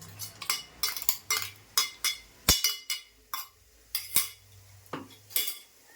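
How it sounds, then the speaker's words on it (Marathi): A spoon scrapes and clinks against a pan as ground paste is stirred into oil, in a run of sharp, regular metallic strokes, close and clear, with no talk. "तर आता मी पॅन ठेवलं आहे तर आता थोडंसं तेल टाकते आपल्याला वाटलेलं सगळं टाकायचं आहे त्याच्यामध्ये"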